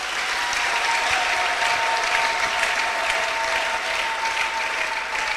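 A church congregation applauds to acclaim the Lord, a dense, steady wash of clapping from many hands that holds at an even level throughout, with no voices rising above it.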